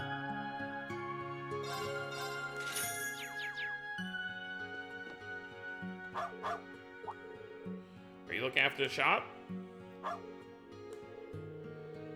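A dog in the video game Trails of Cold Steel IV gives short yipping barks in a couple of quick bursts over gentle background music, with a voice speaking briefly.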